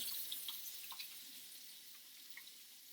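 Hands are washed with soap under a running tap, giving a faint, steady water hiss with small splashes and drips early on, close and quiet with no talk.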